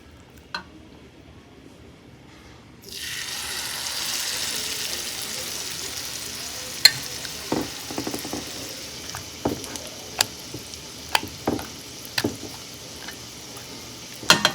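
Pumpkin flower fritters in batter frying in oil, a soft steady sizzle starting abruptly after near-silence, with scattered light clicks and taps of a utensil in the pan.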